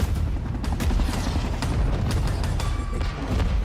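Dense Battlefield 6 combat soundscape with continuous loud gunfire and rumbling explosions, including a helicopter blowing up, layered without pause throughout.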